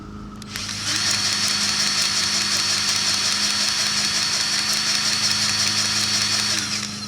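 A Ryobi 18V cordless grease gun kicks on and runs at one fixed full speed, a loud, steady high motor whine with a gear buzz, close up, starting after a brief pause and stopping at the end.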